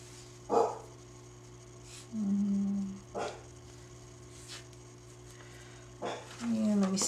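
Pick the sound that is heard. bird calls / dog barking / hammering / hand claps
dog barking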